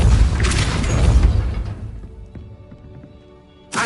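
Depulso force-push spell cast in Hogwarts Legacy, a loud booming blast with a noisy burst that fades over about two seconds into faint clicks, followed by another sudden burst at the end.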